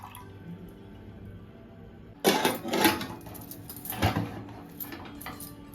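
Water is poured from a glass onto raw chana dal in a 2-litre steel pressure cooker. Two splashy bursts of pouring and sloshing break a quiet kitchen background, close and clear.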